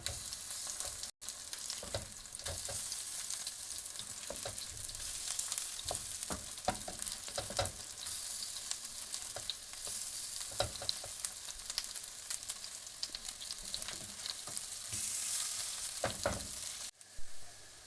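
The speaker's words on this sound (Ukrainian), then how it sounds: "смажимо до утворення рум'яної кірочки" Steady crackling sizzle of zucchini fritters frying in hot oil, continuous and close, with scattered pops and a few clinks throughout.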